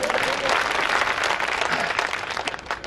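An audience at a poetry gathering claps to welcome a guest, a dense burst of applause from a crowd that carries steadily for a few seconds.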